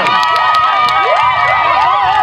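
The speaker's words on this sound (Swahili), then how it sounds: "Jipigieni makofi mengi sana." A crowd at a political campaign rally cheers, whistles and shouts loudly, with high excited voices rising and falling in a dense, continuous roar.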